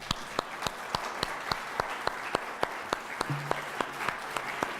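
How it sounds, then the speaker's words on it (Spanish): Sparse, slow hand claps from a small audience at the close of a talk honouring a speaker, with evenly spaced individual claps and no voices over them. "quisiera que despidiéramos al doctor Prochian con un aplauso"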